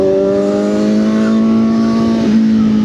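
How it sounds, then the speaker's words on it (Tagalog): A close, loud motorcycle engine drones and revs steadily, its pitch holding fairly even before a slight shift near the end. "Maingay pa yung motor ko"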